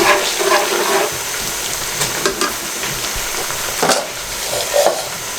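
Onions fry in a pot for haleem with a steady, moderate sizzle, broken by occasional stirring clinks and scrapes.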